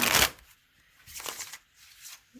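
Tarot cards riffle and shuffle slowly in a few quiet bursts, close and soft, with short pauses between.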